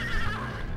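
A horse in a video game, apparently a horse racing game, gives one short, loud whinny that fills the brief moment with no talk.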